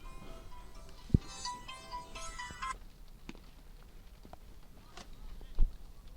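A musical phone ringtone plays a short melodic run of tones during a rainy baseball game broadcast, then stops, leaving quiet background ambience with a couple of sharp knocks.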